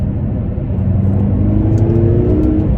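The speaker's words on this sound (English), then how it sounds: "But if I play with the pedals, go down to gear 3, you can hear it starting to open up." BMW F13 M6 with its turbocharged engine pulling in third gear, a loud, steady low rumble that builds as the revs climb, heard from inside the car with no talk.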